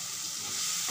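Vegetables frying in a pan for a Bengali home-style curry with tomato, turmeric, cumin, salt and green chilli give a steady, loud, close sizzle and hiss after water is added. The sound is constant, with no talk over it.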